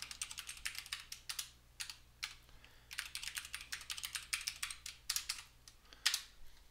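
Rapid typing on a computer keyboard while setting a new password, quick irregular clicks in bursts, close and fairly quiet.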